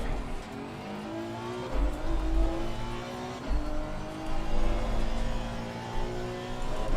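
Engine of a Honda NSX Evo race car in a racing video game, a steady droning hum with slowly rising harmonics and low rumbling swells, continuous and without talk.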